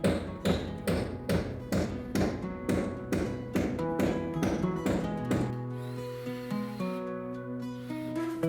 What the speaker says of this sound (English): I know exactly where I'm going to drive this nail.